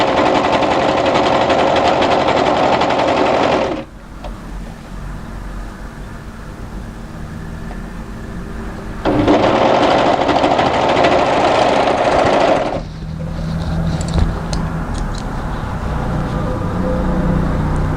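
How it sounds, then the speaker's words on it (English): An overlocker runs along the underarm seam of a knit winter tee dress, whirring steadily and loudly up close in two long runs with a brief quieter stretch between them. "checking our edges are together, going to overlock to the end"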